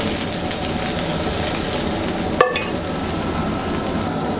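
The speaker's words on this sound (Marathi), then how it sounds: "आता आपण आहे ना चांगलंसं आपण हे भाजून घेऊया म्हणजे परतून घेऊया।" Eggplant slices shallow-frying in oil in a pan, a continuous close, loud sizzle with a brief sharp clatter near the middle, no voices.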